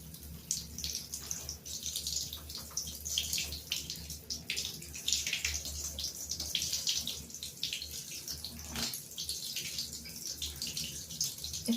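Water runs steadily from a tap, splashing and hissing as it rinses watercolour ink off a paper drawing; a quiet, continuous flow with a brief dip near the end and no talking.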